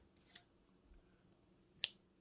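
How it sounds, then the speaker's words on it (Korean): Two sharp, separate snips of scissors cutting yarn during crochet work, close and crisp with quiet room tone between them. "가위로 잘라서"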